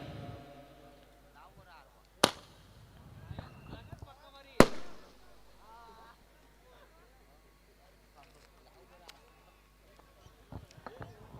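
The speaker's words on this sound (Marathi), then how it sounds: "स्वतः निलेदादा पाटील आपण पाहतोय की फटाक्यांची आतिषबाजी करताना आनंद घेत आहेत" Fireworks burst at a night cricket match, two sharp, loud bangs a couple of seconds apart standing out over a lively outdoor crowd and background voices.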